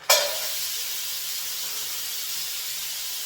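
Frozen chopped kale hits a hot wok with a sharp burst, then settles into a loud, steady hiss of steam and sizzle.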